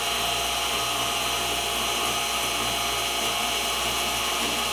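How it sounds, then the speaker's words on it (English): A 1/8 inch 2-flute Niagara end mill spinning in a milling setup at fairly low speed, a steady close mechanical whine and hum that runs unbroken, with no talk. "this is the 1/8 inch 2-flute Niagara cutter that's in here, and pretty low RPM"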